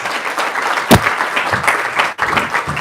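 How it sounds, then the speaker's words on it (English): Dense, continuous applause from an audience, loud and close, with a few sharper individual claps standing out. "please join me in giving a resounding applause to our speakers, Deniz Hünük, Nikolaos Digelidis, and Iserby"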